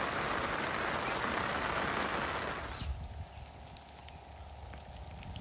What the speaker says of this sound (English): It is still raining and still rising.